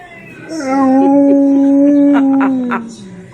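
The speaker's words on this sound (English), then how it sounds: "You getting his howl down?" A single dog lets out a long, steady howl that rises, holds, then trails off, close by, with a quieter whine at the start.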